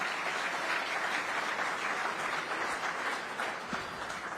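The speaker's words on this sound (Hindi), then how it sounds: "अब मैं इन तालियों के उत्साह के साथ आपके साथ बातचीत शुरू कर सकता हूं।" A large audience at the ET Now Global Business Summit 2024 applauds steadily at the start of a session. The clapping is dense and sustained across the hall and tapers slightly near the end.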